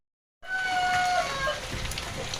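Heavy rain pours steadily while a rooster calls out near the start, its drawn-out cry carrying over the constant downpour; two roosters are getting soaked outdoors.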